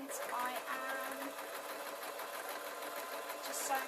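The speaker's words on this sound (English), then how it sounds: "just sewing a straight line" A sewing machine runs steadily as it stitches a straight line, with a fast, even mechanical whir that stays close and continuous while a person talks over it.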